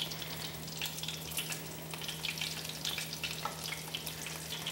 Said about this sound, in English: We're gonna let them fry lightly, about 2 minutes on each side.